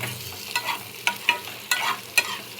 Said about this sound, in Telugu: కట్ చేసుకొని పెట్టుకున్న బంగాళదుంపలు కూడా వేసేసుకుందాము ఇవి కూడా వేగాలి కొంచెంసేపు ఒక ఫైవ్ మినిట్స్ వేపుకుందాము